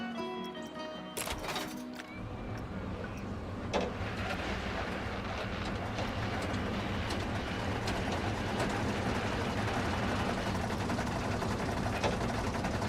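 Roller coaster trains on a track in Planet Coaster 2, two trains running, give a steady, dense rattling rumble that holds for the whole stretch, with a sharp clatter near the start and no talking.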